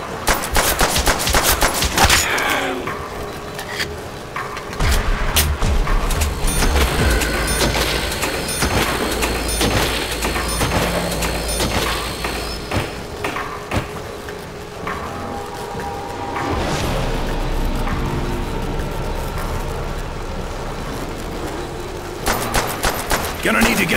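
Rapid gunfire rattles almost nonstop in Call of Duty: World at War Zombies, loud machine-gun bursts and single shots layered with game effects, while a voice talks over the action.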